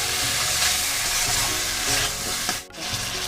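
Ground spice paste frying and being stirred for a fish curry with taro, a dense steady sizzle with scraping stirs, briefly dipping near the end.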